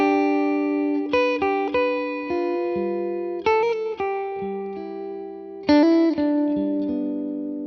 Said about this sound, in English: I want to keep the melody really bare and just kind of have one or two notes harmonizing the melody at times.